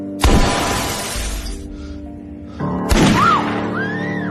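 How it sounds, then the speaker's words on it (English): Two loud crashes of glass shattering, each followed by tinkling shards scattering and settling, close and sharp with a short gap between. "The sound of shattering glass pierced through my skull like a blade."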